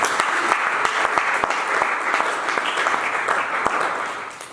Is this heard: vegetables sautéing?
no